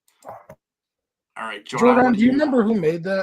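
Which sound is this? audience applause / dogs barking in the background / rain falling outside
dogs barking in the background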